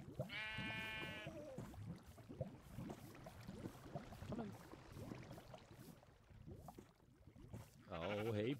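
Video game sheep bleat twice, a clear wavering call near the start and another at the end, with someone talking steadily in between.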